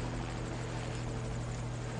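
A helicopter in the video game Evil Genius gives a constant, even rotor drone with a low humming tone, unbroken and moderately loud, with no talking.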